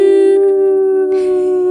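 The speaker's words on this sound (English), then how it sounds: "Spoiler sound. Well, so like every other week is going to be the wolf howl." A sustained wolf howl plays as a podcast spoiler sound effect, loud and close, holding one steady pitch.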